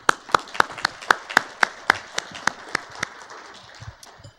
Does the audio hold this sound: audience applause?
yes